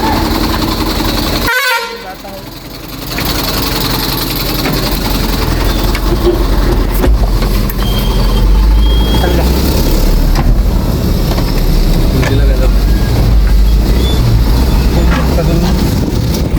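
A band's vehicle pulls out for a performance in Jamner, its horn honking over steady engine and road rumble. A sharp jolt comes early, and voices talk throughout.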